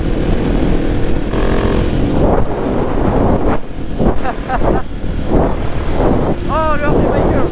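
A Yamaha MT-07 or Husqvarna 701 supermoto motorcycle on the road, its engine droning steadily under heavy wind buffeting for the whole stretch, with a brief voice partway through.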